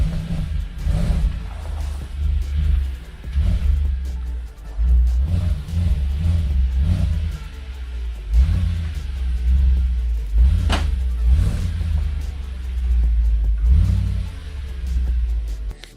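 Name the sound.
Audi S5 engine running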